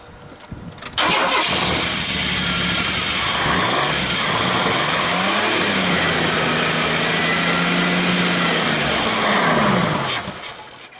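A 1994 GMC Sonoma pickup cranks and catches, then runs loud and close with a rough, noisy exhaust roar that holds steady for several seconds before dying away.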